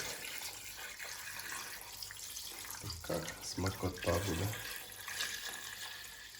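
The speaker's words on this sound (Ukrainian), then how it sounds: "І заливаємо нову водичку. Карпатську джерельну, хорошу воду заливаємо сюди." Fresh Carpathian spring water pours steadily into a 7-litre pot holding a 2.5 kg chicken for aspic, with a splashy, gurgling rush that swells midway and a brief spoken remark over it.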